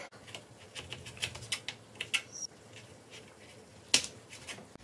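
A knife thinly slices carrots for noodles on a board, making a quiet run of short, irregular taps and clicks, with one sharper cut near the end.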